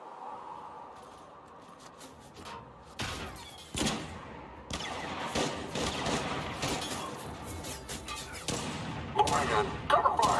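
Gunfire in a video game battle at a science laboratory, bursts of rapid shots and heavy impacts scattered over a busy combat mix, with voices shouting among the shots.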